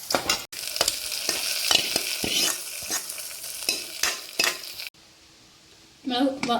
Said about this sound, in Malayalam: ഉള്ളി വറവിട്ടത് കൂട്ടാലേക്ക് ഒഴിച്ചു